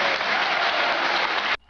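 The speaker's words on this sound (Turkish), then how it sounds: "alkışlıyoruz" An audience of students applauds at an inter-dormitory quiz contest in Çivril, Denizli, with a steady wash of clapping that cuts off abruptly after about a second and a half.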